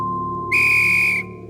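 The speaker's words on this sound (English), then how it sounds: "The final whistle blows" Referee's final whistle in an audio drama, one sharp, shrill blast of a little under a second over a low background hum and tone.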